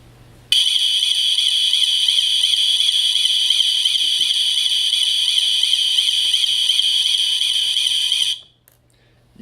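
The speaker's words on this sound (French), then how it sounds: "tous les buzzers de toutes les issues vont se mettre à sonner" Connected modular alarm buzzers from every exit blare together in one loud, steady, warbling electronic tone for about eight seconds, then cut off abruptly into near silence.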